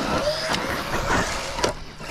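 A Traxxas Rustler RC truck drives outdoors with a steady electric whine and rolling, rough-terrain noise, loud and close throughout, with small bumps along the way.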